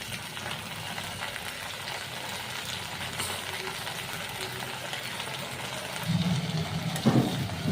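Cluster beans roast in hot oil with a steady, even sizzle and crackle that runs throughout, and a brief stirring clatter comes near the end.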